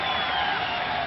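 A crowd at a 2003 Cricket World Cup match between India and the Netherlands cheers a six with a continuous, dense roar that holds steady for the whole moment.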